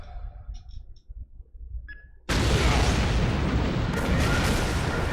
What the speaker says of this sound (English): Time to make our escape with the explosion